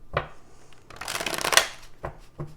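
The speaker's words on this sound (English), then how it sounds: "I always just shuffle them the opposite directions, and then they always stay straight" Tarot cards being shuffled in a brisk riffle, with soft taps and a crisp flurry of card edges, close up and alone.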